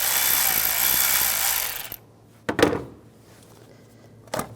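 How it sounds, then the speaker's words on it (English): A power tool with an 8mm socket runs continuously for about two seconds, loosening a worm clamp on a 2013-2016 Dodge Dart 2.4L L4, then stops, followed by a couple of close clunks and handling knocks. "Using an 8mm socket, loosen up this worm clamp."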